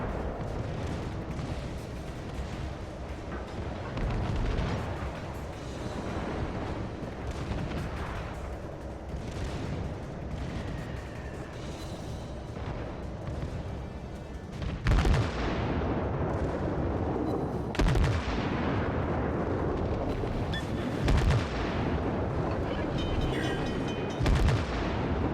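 Warship guns fire in World of Warships gameplay: several deep, booming salvos, with four sharp heavy blasts in the second half over a constant rumbling, noisy battle backdrop.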